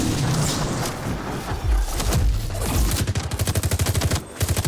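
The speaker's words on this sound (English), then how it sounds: "Stop shooting me!" Rapid bursts of gunfire in the video game Metal Eden, dense and loud throughout, ending in a fast rhythmic volley of shots with booming impacts mixed in.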